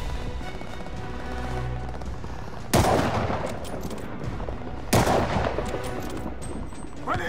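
Gunfire in the Call of Duty: Vanguard video game, with a dense continuous battle bed and two loud, sharp shots standing out a couple of seconds apart, close and forceful.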